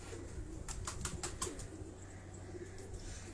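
A pigeon's soft coo and a few quick wing flaps sound in a sequence near the middle, over a steady low background hum.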